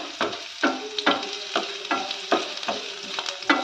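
Chopped ginger and garlic fry in hot oil with a bright close sizzle, while about eight rhythmic spatula strokes scrape and tap the pan. No one talks.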